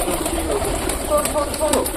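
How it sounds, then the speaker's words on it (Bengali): Flock of pigeons cooing in low, soft murmurs, fairly close and continuous, with faint background noise and occasional brief higher chirps. "দেখতে পাচ্ছি নিচে এখনো প্রচুর পায়রা রয়েছে"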